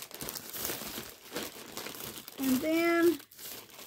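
A little plastic zipper bag from an online shopping haul crinkles near the microphone in short handled bursts while someone talks over it.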